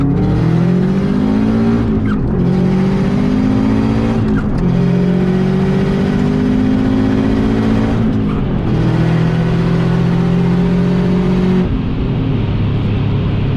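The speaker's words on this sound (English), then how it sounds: "All right, here's second gear pull." A modified 2005 Subaru WRX STi accelerates hard through second gear, its engine note climbing steadily in a loud, continuous pull with brief dips at shifts or lifts, heard up close without talk.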